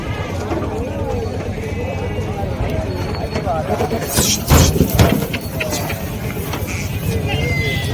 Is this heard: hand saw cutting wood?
no